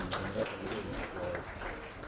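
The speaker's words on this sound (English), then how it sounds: "Ladies and gentlemen, a hand of applause, Ms. Susan Keating." A conference audience gives faint, distant applause as a speaker is introduced at a global mercury partnership session. The soft, steady patter of clapping lasts about two seconds.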